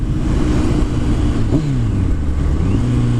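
A motorcycle downshifts from fifth gear, its steady engine drone dropping in pitch and then climbing again as the rider blips the throttle late, with a second rev swell near the end. The engine is loud and close throughout.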